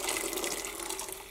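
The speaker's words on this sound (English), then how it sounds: "I'm gonna let a lot of the water drain out" Dye water draining out of a pot after dip-dyeing yarn with violet food coloring, a steady close trickle and splash of running liquid, continuous and moderately loud with no talk.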